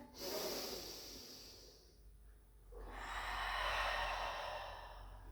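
Slow breathing during a Pilates balance and core glute exercise: a soft exhale, a short pause, then a long, steady in breath drawn close to the microphone.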